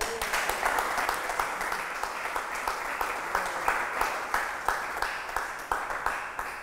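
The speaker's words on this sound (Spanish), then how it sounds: "Dale un aplauso a Dios." A congregation at a church service claps in a lively, rhythmic applause, with many hands striking together in regular pulses, sustained throughout and fairly close.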